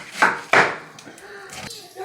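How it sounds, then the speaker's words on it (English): A knife slicing through corned beef on a cutting board gives two sharp, close thuds in quick succession, followed by fainter scraping and lighter taps. "I'm just going to slice it like so and do both sides"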